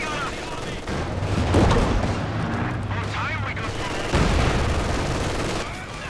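Heavy mortar shells hitting in Company of Heroes 2, booming impacts amid rattling gunfire and constant battle noise, loud and close, with a caster commentating over it.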